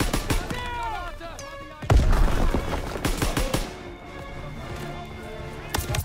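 Artillery barrage and gunfire in the World War II video game WW2, a heavy close explosion followed by rapid rifle shots and more blasts, with shouting voices in the mix.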